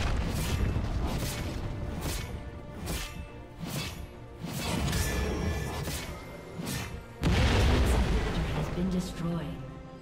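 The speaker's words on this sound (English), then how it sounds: "Red team's turret has been destroyed." A turret is destroyed in the League of Legends video game, amid a dense clash of booming impacts, crashes and whooshing effects in repeated bursts, with a heavy blast near the end and game announcer speech over it.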